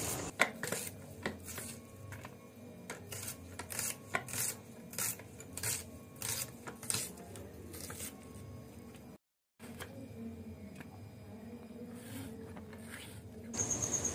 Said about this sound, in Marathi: आता कांदा चिरून घेऊया आपण.